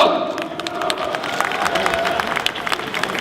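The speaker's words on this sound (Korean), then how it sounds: "박수 보내주시죠." Applause and cheering from a crowd at the opening ceremony of a city mayor's cup amateur football tournament in Bucheon, steady clapping with crowd noise throughout, fairly loud and close.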